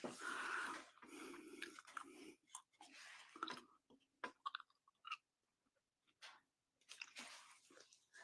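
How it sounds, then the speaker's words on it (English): Gum is chewed right beside the microphone, giving close, wet smacking and clicking in irregular bursts separated by short silences. "I'm still chewing my gum, and it probably doesn't sound great because the camera is right by my mouth."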